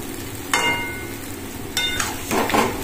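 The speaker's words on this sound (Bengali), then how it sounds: "মাছগুলো একে একে আমি তেলের মধ্যে দিয়ে দিলাম মশলার সাথে।" Pieces of bhetki fish frying in oil with spices, a close steady sizzle broken by loud bursts as each piece hits the pan, no talk.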